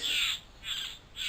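Satin bowerbird calling during courtship, three harsh, rasping bursts repeated at a steady pace, fairly close and clear with no talking.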